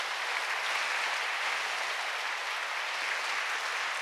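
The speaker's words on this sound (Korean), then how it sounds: "우리 하나님께 영광의 박수 다시 한번 올려드립니다." A church congregation claps without pause to give glory to God after hearing about workers from North Korea, the applause dense and even at moderate volume.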